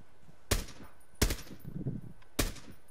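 Three loud, sharp gunshots ring out in a video game, spaced about a second apart, each with a short decaying tail over low background noise.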